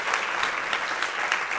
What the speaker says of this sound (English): Please, a round of applause for Natacha Gajdoczki and Kelly Hungerford.